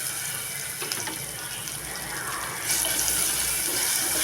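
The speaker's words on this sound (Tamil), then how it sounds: "வெங்காயம் நல்லா வதங்கி வந்துருக்கு." Onion, green chilli and tomato sauté in a pan with a steady hissing sizzle that swells a little louder partway through, with no voices.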